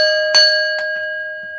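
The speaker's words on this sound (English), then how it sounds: "Let's ring the bell." A bell is struck a few times, each ring sharp and loud, then hanging on as a steady, bright, sustained tone that fades only slowly.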